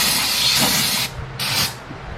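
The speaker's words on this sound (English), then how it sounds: "We sprayed this guy out with brake clean" Brake cleaner hisses from an aerosol can in two bursts, a long steady spray then a brief pause before a second shorter blast, close and loud while cleaning out an oil drain area.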